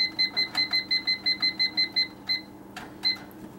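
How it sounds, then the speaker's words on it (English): A kitchen timer goes off while a fruitcake cools, sounding a rapid series of about ten sharp, evenly spaced electronic beeps, then a short pause and a few scattered final beeps, close and clear with no talking. "And after you, there's my timer."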